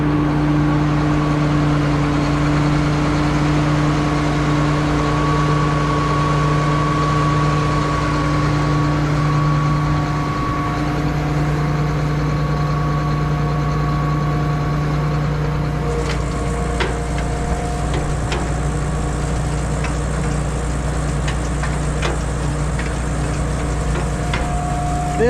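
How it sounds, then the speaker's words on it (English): A peanut inverter plow digs up peanuts and shakes them in hard dirt. It makes a steady droning engine hum with a low mechanical rumble, and faint rattles and knocks come in partway through. "It's all something that plows the peanuts up, inverts them, and it shakes them as it's inverting them."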